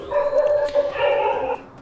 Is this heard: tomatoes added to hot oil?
no